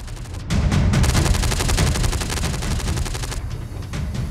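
Rapid anti-aircraft gun fire during a Chinese army live-fire drill on a Tibetan plateau, a dense, loud continuous burst of shots that keeps going with a slight drop in intensity near the end, no voices.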